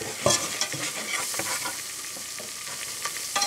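Butter and flour roux cooking in a pan that was just used for pasta, a steady close sizzle with scraping stir strokes running throughout, no voices.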